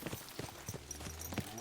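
Horse hooves clip-clop along a road in Kingdom Come Deliverance 2, a steady, moderately close rhythm of light knocks over a low ambient bed.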